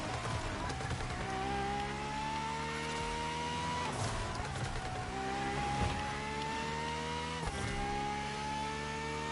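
A Ferrari supercar driven in the racing game The Crew Motorfest around Maui, Hawaii: a loud, close engine drone climbs in pitch through several gears, each shift marked by a sudden drop before the revs rise again.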